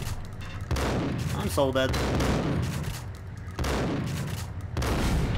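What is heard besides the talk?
gunfire in the video game Max Payne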